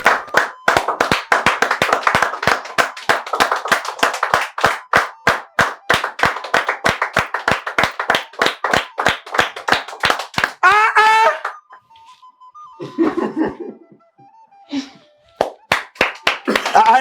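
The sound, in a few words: people clapping hands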